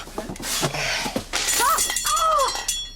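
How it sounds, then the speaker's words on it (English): A light bulb breaks with a sharp shattering crash, then glass showers down in a brief burst of tinkling, followed by short startled vocal cries. "from the shower of glass and the fact that we are now in total darkness, that you have just broken the light bulb"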